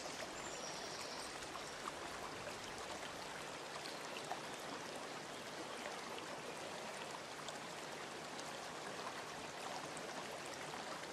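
A river stream flows in a steady, even rush of water with fine trickling detail, close and continuous, with no voices.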